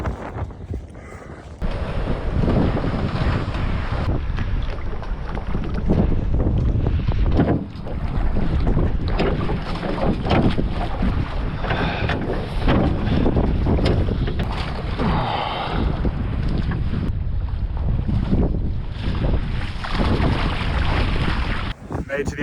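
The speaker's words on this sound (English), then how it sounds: "Time to row." Rowing a small tinny across a river crossing on a remote Tasmanian coastal hiking track, steady water and hull noise buffeted by strong wind rumble on the microphone, continuous and close for the whole stretch.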